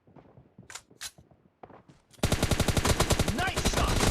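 Rapid automatic gunfire in the mobile shooter PUBG Mobile, a dense loud burst of repeated shots after a quieter stretch of scattered clicks and faint single sounds.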